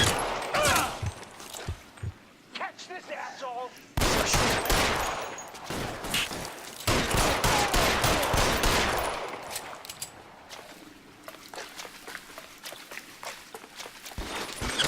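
Rapid bursts of gunfire in the crime shooter LA Noire, loud volleys broken by brief pauses, with scattered footsteps and quieter stretches of shooting later.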